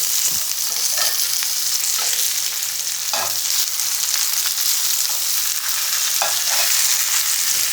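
Pressed tofu fries in a hot pan with a loud, steady sizzle, broken by a few scraping stirs and flips of a spatula; no voices.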